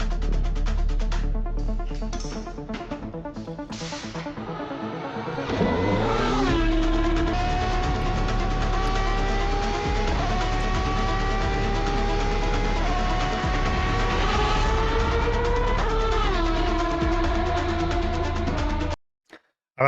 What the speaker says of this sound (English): This is the Aston Martin Valkyrie, designed by Adrian Newey around Paul Ricard in the hands of Fernando Alonso.